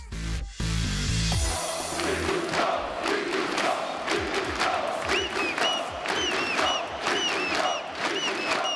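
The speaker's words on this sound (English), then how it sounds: "The crowd goes wild for local team Virtus.pro." Big esports arena crowd at Katowice roaring and cheering for home team Virtus.pro, a loud sustained roar of voices with shouts and whistles, opening with a brief sharp burst before the cheering swells and carries on.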